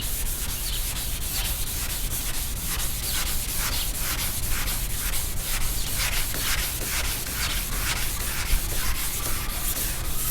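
Car paint being wet sanded by hand with sandpaper on a hood, producing steady, rhythmic back-and-forth rubbing strokes that are close, even and continuous with no talk.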